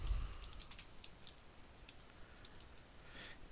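Quiet computer keyboard typing, a few light scattered key clicks in a short burst at the start and again near the end, faint and close.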